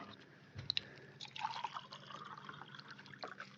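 Water poured into a glass for taking pills, a faint trickling and dripping fill with small clinks, quiet and close in a still room.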